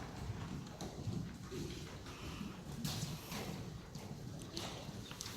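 Horse hooves during a riding lesson, a muffled and fairly steady clip-clop of footfalls over a constant background hiss, with no voices heard.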